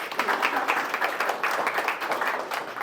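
An audience applauds a speaker at a historic buildings talk for the Massillon Museum, a moderate patter of claps from a modest crowd, steady and close, with no talking.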